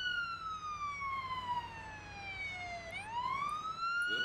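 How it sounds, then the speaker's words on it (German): A police siren from the Police Simulator: Patrol Officers video game wails steadily, sweeping down in pitch and then rising again, loud and close over low road rumble, with no talk. "jetzt kommt er wieder mit seiner lauten Sirene"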